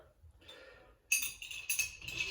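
A bar spoon stirs ice in a glass for a vermouth cocktail, producing a close, bright run of light clinking and swirling rattles after a quiet start.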